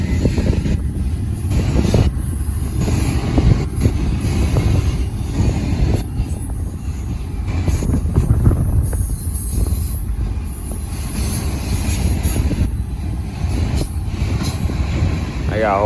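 Norfolk Southern freight train passing on the Charlotte District line, a loud continuous rumble of rolling wagons with rhythmic wheel clatter and occasional squeal, buffeted by wind noise close to the listener.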